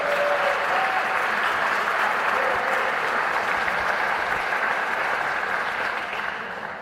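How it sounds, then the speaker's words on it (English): Sustained, even applause from a large audience at an athletics hall of fame ceremony rolls on steadily and fades slightly at the end. "Let's give them a round of applause."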